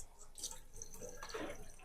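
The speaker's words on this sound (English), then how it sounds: "Turn on the water, wet your hands" A tap runs for hand washing, giving a soft, steady splash and trickle that is faint and close, with irregular drips and spatter.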